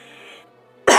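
A single sharp, dry cough bursts out loudly near the end after a quiet moment, one harsh explosive rasp up close.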